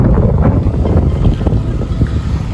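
Strong wind by Manila Bay buffeting the microphone, a loud, steady low roar with gusty surges and no talk.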